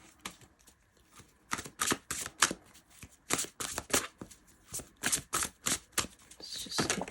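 Oracle cards being shuffled by hand close up, giving repeated riffling, flapping bursts in an uneven rhythm with short gaps between handfuls and no talking.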